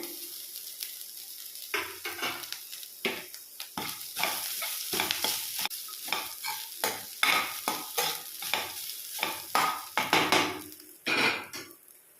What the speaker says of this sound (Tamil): நான் இதில் தேங்காய் ஆட் பண்ணுறேன்